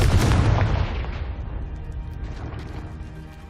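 In the Hogwarts Legacy game, a Confringo fire spell blasts a pile of debris blocking a stairwell, setting off a loud, deep booming explosion that rumbles and slowly fades over a few seconds.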